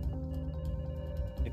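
A telephone rings inside the hacking video game Hacktag, a tonal electronic ring repeating over a faint game background, with no talking.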